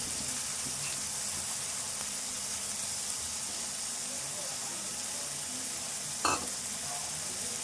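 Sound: soaked chana dal frying and stirred in a pan

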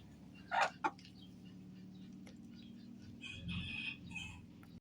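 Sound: chicken clucking

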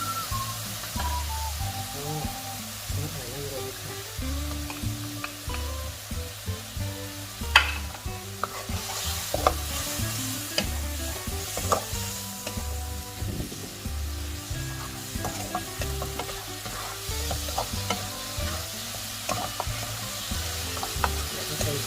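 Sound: stirring pork with shrimp paste and long beans in a pan

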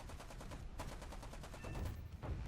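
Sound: aircraft cannon fire in a video game

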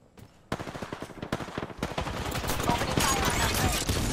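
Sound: gunfire from the video game Apex Legends

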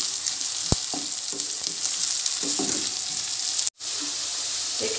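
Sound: onion and garlic frying in a pan

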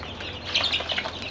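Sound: seven-day-old farm chicken chicks cheeping

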